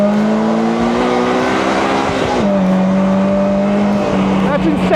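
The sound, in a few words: 2024 Polaris Slingshot SL engine revving high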